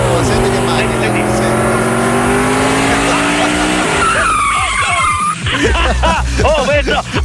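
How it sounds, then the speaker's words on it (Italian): A car speeds along a downhill road with tyres squealing and the engine revving loudly up close. Excited voices talk and shout over the vehicle noise throughout. "Ma senti che macchina?"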